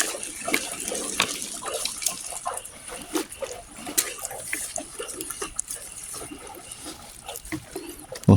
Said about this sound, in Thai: เทน้ำกันครับน้ำกันครับผม